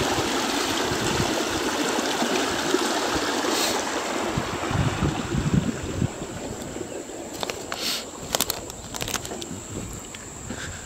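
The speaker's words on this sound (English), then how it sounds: "I'm just kind of slowly knocking these bricks off, letting it drain down." Pond water pours through a failing brick dam as bricks are knocked away, a steady rushing, gurgling flow that fills the whole scene outdoors, with a few sharp knocks and splashes late on.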